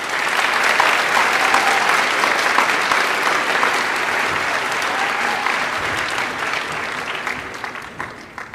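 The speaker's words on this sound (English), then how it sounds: "Another round of applause for those kids." Loud, sustained applause from a school audience at a high school Veterans Day program, honoring a student band; dense steady clapping that holds for several seconds before gradually thinning out.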